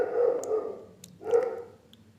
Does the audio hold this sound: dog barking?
yes